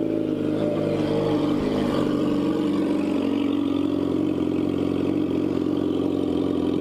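A steady mid-pitched engine drone with light clatter holds for several seconds near a road, like a Toyota Prius passing by, without any voices.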